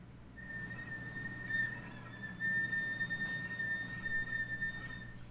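A high, pure flute whistle tone holds steady on high A, faint and breathy, with slight flickers as it sustains alone.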